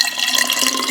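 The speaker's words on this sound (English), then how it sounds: "I am going to pour 1 cup of water" Water poured from a cup into an emptied passata bottle to rinse it, a short, close, steady splashing gush with no talk.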